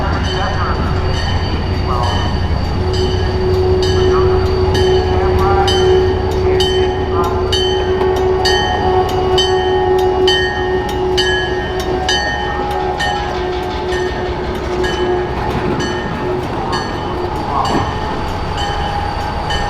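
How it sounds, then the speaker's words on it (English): Wisconsin Central SD45 diesel locomotive No. 7525 in Operation Lifesaver paint running on a heritage museum main line, a loud steady engine drone with rail noise throughout, a sustained horn-like tone in the middle. "This is Wisconsin Central SD45 number 7525."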